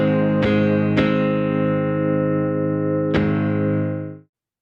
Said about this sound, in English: I also added this lick separately with some distortion and chorus to add subtle grit and texture.